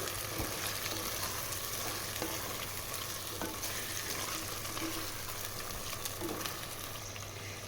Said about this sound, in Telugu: పేస్ట్ బాగా ఫ్రై అయిన తర్వాత మటన్ వేసేసుకోవాలి మటన్ వేసి మొత్తాన్ని ఒకసారి కలిపేసేయాలి